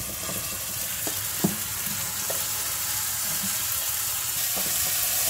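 Potato and moong vegetables with turmeric sizzle steadily in a pot without any added water, a constant hissing fry with a few sharp clicks and scrapes of stirring scattered through it.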